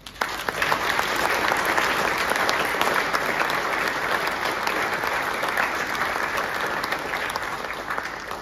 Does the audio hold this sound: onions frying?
no